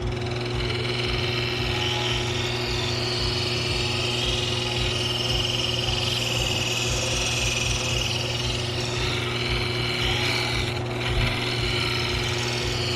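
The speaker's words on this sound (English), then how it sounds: "Real quick, negative rake scraper." A negative rake scraper cuts spinning wood on a lathe, giving a continuous loud rasping, scraping hiss over a steady motor hum for the whole stretch, with no talking.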